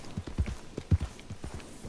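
Horse hooves trampling an animal in Red Dead Online, a series of dull, heavy thuds in an uneven galloping rhythm, close and moderately loud with no talk.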